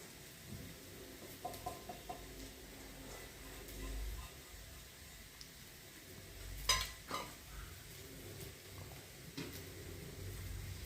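A grated sweet potato mixture with red chili powder, coriander, crushed peanuts and salt being stirred in a pan over low heat gives quiet scraping strokes, a faint sizzle and a few sharper spoon knocks near the middle.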